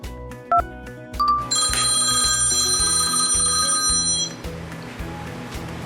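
A telephone rings loudly in a home, a repeated bell-like electronic trill with steady pulsing beneath it, preceded by a few brief tones, with no talking.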